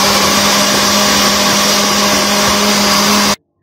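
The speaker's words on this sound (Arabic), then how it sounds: "هنضربها في الخلاط زي ما انتم شايفين كده" An electric blender purees cooked yellow lentils, a loud steady whirring drone running unbroken at close range before cutting off abruptly near the end.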